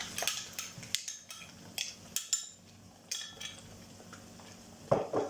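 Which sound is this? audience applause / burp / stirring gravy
stirring gravy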